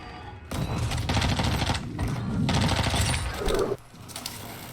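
Video game gunfire in Warzone 2: loud, sustained automatic bursts broken by brief pauses, dense and close, ending in quieter scattered shots.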